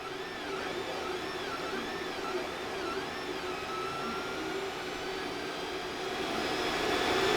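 Artillery Sidewinder X1 and Genius direct-drive 3D printers running quietly, giving a soft, steady whir of fans and stepper motors. Faint repeating warbling motor tones rise and fall over it, with no voices.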